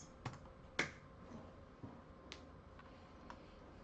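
A few sparse clicks of keys on a computer keyboard, close and fairly quiet, with one sharper press standing out among scattered light taps.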